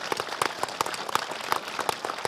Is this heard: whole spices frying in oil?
no